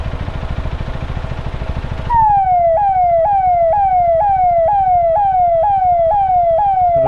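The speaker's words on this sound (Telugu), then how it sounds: "సైరన్ అయ్యి" An ambulance siren wails loudly and steadily in repeating rising sweeps, cutting in abruptly over rumbling road traffic on a motorbike ride and continuing to the end.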